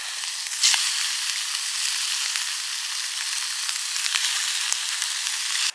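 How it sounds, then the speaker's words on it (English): Sausage and bacon sizzling in a pan outdoors in the woods, a close steady hiss with occasional spits and crackles, no voices. "That flat sausage is almost done."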